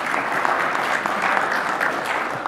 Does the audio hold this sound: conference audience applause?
yes